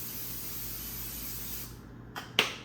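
A short hiss of canola oil cooking spray into a pan, two quick close bursts near the end after quiet kitchen background.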